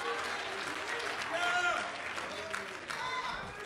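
Church congregation giving a hand-clap offering, a warm wash of steady clapping from many hands in a large room, with some voices mixed in under the applause.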